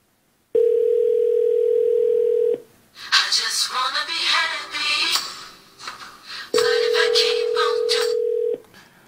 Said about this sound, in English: it rings with an MP3 ringtone that I set